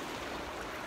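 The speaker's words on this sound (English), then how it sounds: "the sound of the sea, which is supposed to be very tranquil and calming" Sea waves washing onto the shore near Brighton, a continuous broad hiss of surf with wind, brief and steady.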